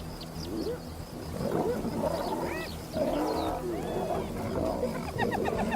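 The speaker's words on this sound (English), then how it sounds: "With a reasoned growl, the queen of the grasslands concedes her prize" A lioness on the savannah growls in low, rumbling rolls that run steadily through the whole stretch, with overlapping yips and whines from a pack of rivals around her.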